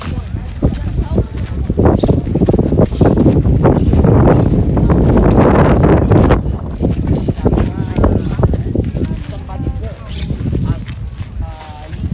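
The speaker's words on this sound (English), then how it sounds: "So windy." Strong wind buffets the microphone outdoors at Park Güell in Barcelona, a loud, constant low rumble with gusts throughout, while people talk over it.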